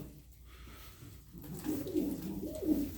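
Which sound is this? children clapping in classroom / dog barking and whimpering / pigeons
pigeons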